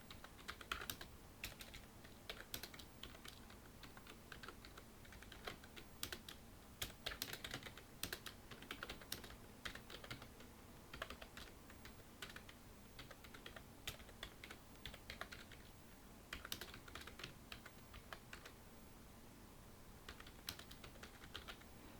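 Computer keyboard typing while entering text in PowerPoint, a long run of quick irregular clicks in bursts and pauses, close and fairly soft, with no talk over it.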